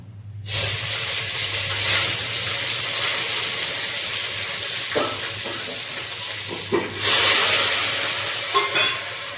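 Loud, steady sizzling of spices frying in hot oil for tempering, with bursts of crackle and hiss and occasional stirring clatter, and no talking.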